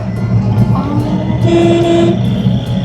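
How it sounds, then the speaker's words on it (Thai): A loud vehicle horn blares once for about half a second amid a constant engine drone and background noise. "บีบแตรเพื่อเป็นสิริมงคลครับให้เดินทางปลอดภัย"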